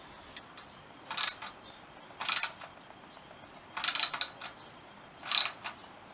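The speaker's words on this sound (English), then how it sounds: "I'm going to loosely bolt it into place." A ratchet bolts a number plate holder onto a Honda CB125S motorcycle being restored. Four short, close bursts of rapid pawl clicking are separated by quiet pauses.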